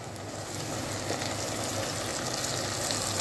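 Onions sizzle as they fry in a pan while chicken is being prepared, making a steady close crackle and hiss with no talking.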